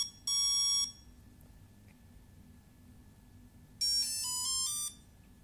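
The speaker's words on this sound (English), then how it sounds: "the one beep is for brake" Two bursts of high beeping tones from a HobbyKing-style electronic speed controller while setting the brake, the first near the start and the second near the end, with a quiet low hum in between.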